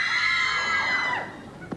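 Fans in a television studio in 1990 scream in a high, sustained shrill wave that rises, then fades, ending with a short sharp sound.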